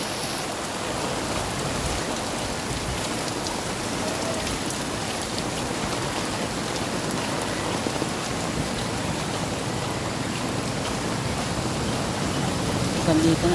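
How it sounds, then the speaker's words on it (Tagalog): Heavy rain pours steadily, a dense, constant hiss of drops hitting surfaces close by, unbroken for the whole stretch. "Sobrang basa ng ulan eh."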